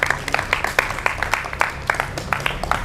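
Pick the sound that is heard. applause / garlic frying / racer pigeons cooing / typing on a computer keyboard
applause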